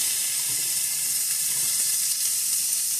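Zucchini fries in a hot pan, a bright continuous sizzle and hiss of oil holding steady for a few seconds with faint stirring underneath and no talking.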